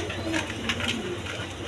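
Pigeons coo softly in a low, murmuring stream, with bird calls faintly layered over steady background noise; the birds are big-sized pigeons kept for sale, including one with a chick.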